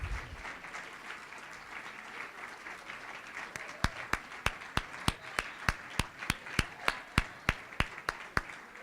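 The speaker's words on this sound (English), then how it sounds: "give you a big round of applause" An audience applauds, a soft scattered patter swelling into steady rhythmic clapping with sharp, evenly spaced claps toward the end, fairly distant.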